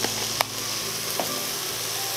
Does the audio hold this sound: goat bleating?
no